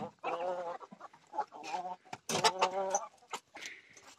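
A hen clucks near her chicks in a farmyard, giving a run of close, repeated clucks and calls, with people talking over and between them.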